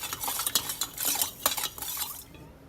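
Lemon juice being stirred with sugar, a pinch of salt and water, a spoon clinking and scraping against the vessel in quick, uneven strokes close by, with no talking.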